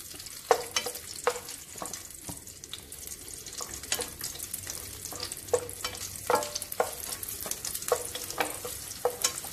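Something frying in a pan before being set aside, with a continuous soft sizzle broken by repeated scraping and stirring clicks at an irregular pace, close and moderately quiet.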